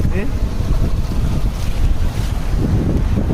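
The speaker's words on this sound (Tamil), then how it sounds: "சரியான ரெயினாக இருக்குது." Heavy rain in Dubai roars as a loud, steady broadband wash, blended with gusting wind on the microphone and what may be waves breaking, constant from start to finish with no pauses.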